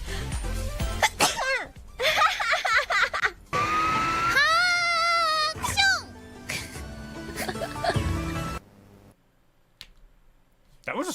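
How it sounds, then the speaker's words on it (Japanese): Sneezes from a Hololive VTuber come in several sharp bursts mixed with squeals and voiced exclamations, loud and close, with speech between them. "I didn't realize that was a sneeze."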